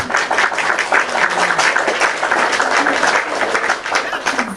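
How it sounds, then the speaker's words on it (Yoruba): Audience clapping, a continuous fairly loud wash of many hands applauding for several seconds with a murmur of voices mixed in. "Ẹ jẹ́ pàtẹ́wọ́ fún."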